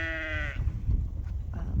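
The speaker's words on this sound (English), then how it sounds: "The sheep are up here, kind of enjoying it." Sheep on a farm give a clear, close bleat that lasts about half a second, then fade into outdoor rustling and low ambient noise.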